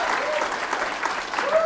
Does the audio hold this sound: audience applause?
yes